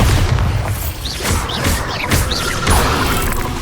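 Spell explosions go off in the video game Hogwarts Legacy: repeated heavy booms and crashes over dense, loud combat noise, with several impacts spaced about half a second apart.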